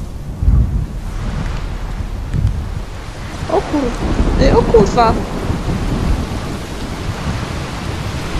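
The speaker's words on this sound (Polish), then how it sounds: "Dobra, zaczęło padać, więc nie powinien mnie słyszeć, nie?" Steady rain with a rumble of thunder in the zombie game Dying Light: The Following, a dense wash of rainfall with low booming swells, while a man mutters over it.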